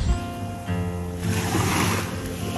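Ocean surf at the seashore in the Dominican Republic, a steady broadband wash of waves that swells louder after the first second, with a low hum underneath and no talking.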